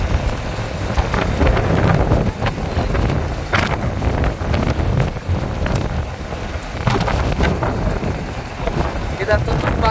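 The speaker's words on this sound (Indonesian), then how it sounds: "Pas kita turun hujan, angin, pasir." Heavy rain and gusting wind sweep across a rest area on the road from Mecca to Medina during a sandstorm, a loud, steady roar with buffeting wind noise on the microphone and a voice talking underneath.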